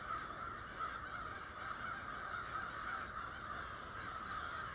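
Crows cawing outdoors, a steady noisy chorus of harsh calls at a moderate distance, continuous over several seconds with no talking.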